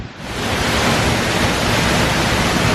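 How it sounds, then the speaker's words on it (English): An epic waterfall in Iceland roars from close behind the falling water, a loud, steady, unbroken wash of broadband rushing noise that fills the whole clip with no voices. "This really is quite something, standing behind this epic waterfall."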